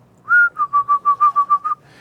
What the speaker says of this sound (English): I could hear the wind whistling through their wings